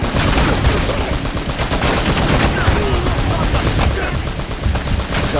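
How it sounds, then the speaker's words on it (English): Enemies firing guns in Uncharted: Drake's Fortune, a dense, continuous barrage of rapid gunshots and automatic fire, loud and close throughout with no pauses. "they're shooting me from the bushes as they go around the side"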